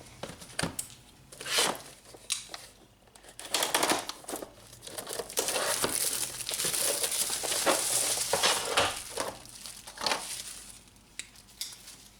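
Packaging for a Sunex specialty impact socket set, model 3328, being opened: close crinkling of plastic and cardboard with occasional knocks and rustles, bursts of handling over about twelve seconds, no talk.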